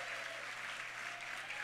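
An audience at an awards ceremony gives a round of applause, a steady, soft wash of many hands clapping heard from a distance, unbroken for the whole short stretch.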